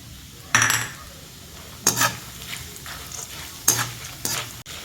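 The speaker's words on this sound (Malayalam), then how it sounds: "ഇതെല്ലാം കൂടെ നല്ലതുപോലെ ഒന്ന് മൂപ്പിച്ച് ഇത് അവലിനകത്തോട്ട് ചേർക്കാം." Cumin and black sesame seeds roast in a pan under a constant low sizzle. Four or five sharp scraping stirs with a utensil against the pan rise loudly above it at irregular intervals.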